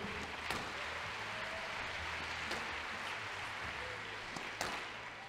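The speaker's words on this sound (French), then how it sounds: "Les 4 jeunes, on peut l'applaudir bien sûr." An audience at the Open de France squash exhibition in Nantes applauds four young squash players with steady, fairly faint clapping that holds evenly throughout, with a few sharper claps standing out.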